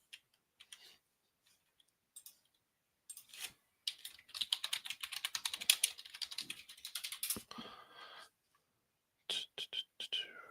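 Keyboard typing while editing in Roll20, bursts of quick close key clicks, one dense run of rapid keystrokes with short pauses between.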